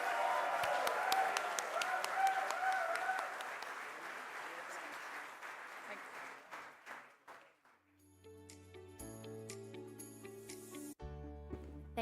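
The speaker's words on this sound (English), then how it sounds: "Can I have a big round of applause?" Audience applause at a graduation felicitation ceremony, dense clapping from a large crowd that gradually thins and fades, then gives way to music in the final seconds.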